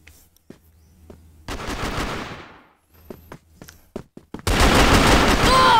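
Gunfire in the video game CrossFire, using a Colt 1911 Bumblebee pistol: loud close bursts of rapid shots separated by scattered single shots and quieter gaps.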